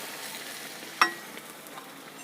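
Spices sizzle and fry softly in a pan while making banana curry, with a steady low crackle and one sharp tick of a utensil midway.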